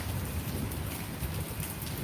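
Steady rain falling in a dense, even hiss of drops hitting surfaces, continuous and fairly close, with no talking.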